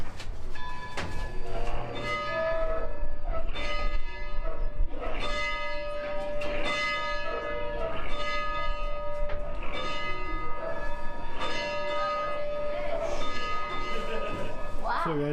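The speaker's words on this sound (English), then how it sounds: "it rings the bell" A bell rung by pulling its cord, clanging repeatedly in a steady rhythm with long ringing overtones, each strike close and loud, with brief voices in the background.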